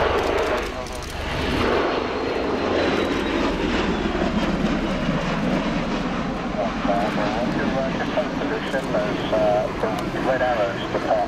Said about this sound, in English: So the initial fly past in aircraft mode as it is, under the power of the two Rolls-Royce Allison A1107C turboshaft engines.